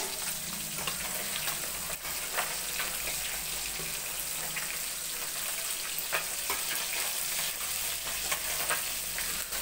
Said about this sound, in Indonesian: goreng iwak